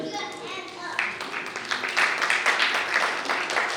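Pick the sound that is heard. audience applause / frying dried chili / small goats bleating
audience applause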